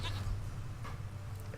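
A goat bleats in The Witcher 3, a steady, low, droning cry that holds throughout, with faint background sound from the game.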